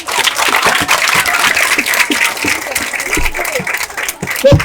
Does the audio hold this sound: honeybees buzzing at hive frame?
no